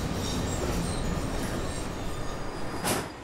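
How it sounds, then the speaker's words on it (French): Berlin U-Bahn A3L71 train in the station, a steady loud rumble of rolling stock with faint squealing wheels and a brief hiss near the end. "voici une rame A3L71 qui est dans la station"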